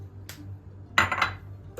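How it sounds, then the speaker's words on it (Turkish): Butter and eggs are mixed with a spatula in a kneading bowl for butter-and-cheese poğaça dough, heard as a few faint scrapes and soft taps against the bowl over a low background hum. "karıştırıyorum spatula ile"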